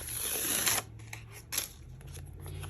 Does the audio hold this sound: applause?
no